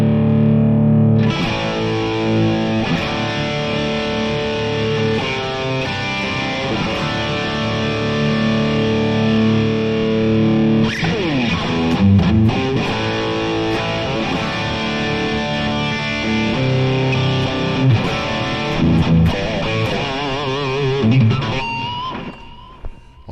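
Heavily distorted electric guitar with Vola in-house pickups plays continuously, loud and dense, with chords and a brief change in texture midway, ending abruptly.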